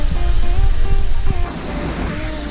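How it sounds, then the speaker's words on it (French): Saut du Gendarme waterfall in Martinique, a steady broadband roar of falling water, loud and close for the first part, then slightly softer and more distant, with no speech. "Et nous voilà arrivés à la cascade du saut de gendarmes."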